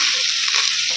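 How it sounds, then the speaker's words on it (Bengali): Cut potatoes frying in a pan while being stirred, a dense close sizzle with soft scraping movements throughout. "আলুটাকে একটু নাড়াচাড়া করে নিব।"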